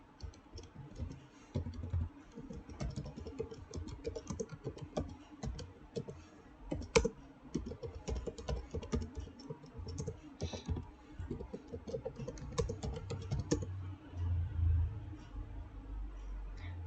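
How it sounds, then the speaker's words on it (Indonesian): Fingers type a command on a computer keyboard in quick, uneven bursts of soft key clicks, close and fairly quiet, continuing steadily with a low hum underneath. "Jadi di sini kita ketik"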